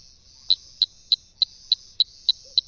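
A toxic toe-tapping frog gives a rapid series of eight sharp, evenly spaced high clicks, insect-like chirps repeating about three per second against a quiet background, close and clear.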